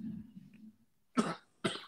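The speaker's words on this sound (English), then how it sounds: "That's a powerful cough." An adult coughs twice, two loud, close, harsh bursts following a short stretch of low murmuring.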